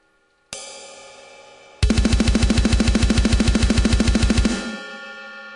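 Programmed metal drum pattern with a ride cymbal: a single hit, a pause, then rapid machine-gun-like double-kick and snare strikes hammering in a tight, loud, fast rhythm for about three seconds before cutting off into a ringing tail.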